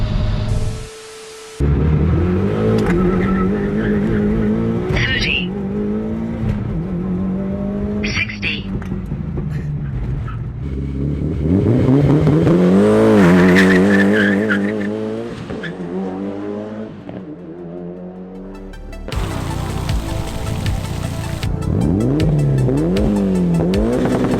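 A Mitsubishi Evo launching hard and accelerating through rising, repeated gear pulls, engine note climbing and dropping between shifts with a tire squeal, loud and close, with a voice talking over parts of the run.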